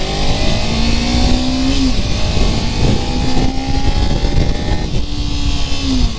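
A motorcycle engine under throttle runs loud and close, its pitch rising in repeated sweeps as it accelerates, over wind rush and with no talk.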